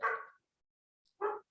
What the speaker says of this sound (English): just excuse me a moment while my dog barks